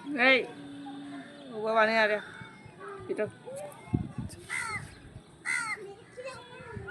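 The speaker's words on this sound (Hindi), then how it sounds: "ये देखो कौवे की आवाज़ आई है, कौवा बोल रहा है" A crow caws several times at moderate distance from a house rooftop, mixed with children's voices and nearby talking.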